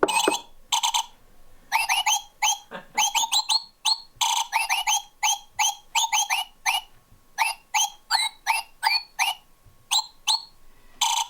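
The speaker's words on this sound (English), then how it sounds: "It's a singing bird." A mechanical singing bird ornament on a Christmas tree chirps in quick, bright whistled trills, repeated in short bursts with brief pauses, close and clear with no talking.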